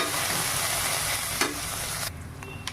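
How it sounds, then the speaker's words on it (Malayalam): Ginger garlic paste is stirred in a hot frying pan for a chicken liver pepper fry, giving a loud, dense sizzle with scraping stirs that drops off near the end into a quieter crackle. "ഇഞ്ചിയും പിന്നെ വെളുത്തുള്ളിയും പേസ്റ്റ് 1 സ്പൂണിൻ്റെ അത്ര ഇട്ടിട്ട് നല്ലോണം ഇളക്കി കൊടുക്കണം"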